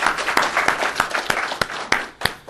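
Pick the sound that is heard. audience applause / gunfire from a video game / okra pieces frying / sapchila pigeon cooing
audience applause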